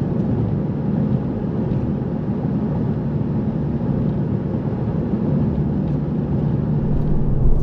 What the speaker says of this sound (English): road noise all by itself.